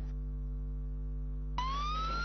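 A siren rises in pitch over a steady low hum, standing in for emergency vehicles at night during a fire at the National Assembly; the wail starts abruptly and climbs, faint against the constant drone.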